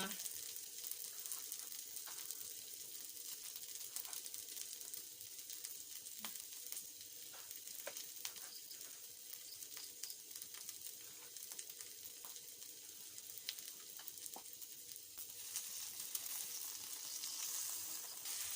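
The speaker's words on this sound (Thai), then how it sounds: "ก็เหลือติดก้นกระทะก็ เอามาผัดพริกนะคะ" Chili stir-frying in leftover oil at the bottom of a wok after frying eggs, a steady fine sizzle with occasional scrapes and clinks of stirring throughout, fairly quiet and close.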